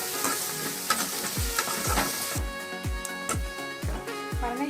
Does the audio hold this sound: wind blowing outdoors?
no